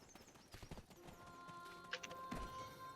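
Quiet horse hoofbeats in Black Desert Online clip-clop in a short irregular rhythm, faint and close, with no talking.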